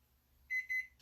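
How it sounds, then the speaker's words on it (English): A kitchen timer goes off while peanut butter cookies bake, giving two bright, loud electronic beeping bursts with a short gap between them. A thump follows at the very end. "that's my alarm for the peanut butter"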